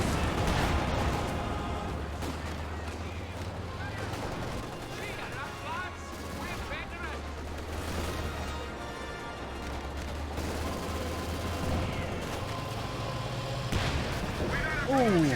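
Tank cannon fire in Company of Heroes 2 as a Panzer IV and a Churchill trade hits, heavy shots and impacts amid constant battle noise with a voice talking over it.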